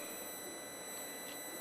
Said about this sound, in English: You can just about hear that little ringing sound.